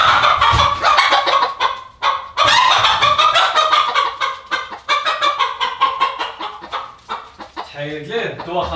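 Chickens cluck and squawk loudly and close, in a dense, agitated run of rapid calls that barely pauses, rising into harsher cackles near the end.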